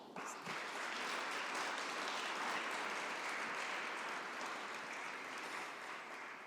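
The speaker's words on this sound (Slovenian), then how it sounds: "Bravo, en aplavz." Applause at a reception for a Special Olympics delegation, a steady even wash of many hands clapping at moderate distance, sustained throughout with no talk over it.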